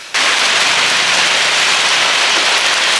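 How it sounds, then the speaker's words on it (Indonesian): Sudden heavy rain pours down while riding a motorbike, a dense, steady hiss of rainfall that starts abruptly and stays loud and constant throughout. "ternyata hujan coy"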